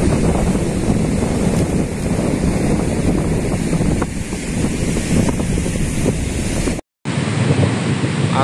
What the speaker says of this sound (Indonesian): Ini ombaknya kayak begini.